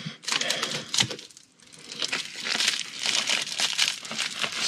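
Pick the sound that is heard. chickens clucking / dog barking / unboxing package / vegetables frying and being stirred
unboxing package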